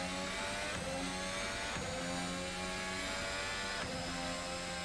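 Hybrid racing car in a video game, its engine howling steadily at high revs with rising tonal whine and brief gear-shift dips, loud and continuous with no voices.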